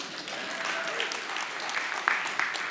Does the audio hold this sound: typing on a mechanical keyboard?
no